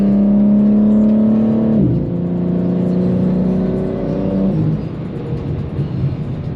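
Steady engine drone of a BMW G82 M4 Competition cruising on a road, with low harmonic tones that shift in pitch around two seconds and again near four and a half seconds, continuous and close, with no talk.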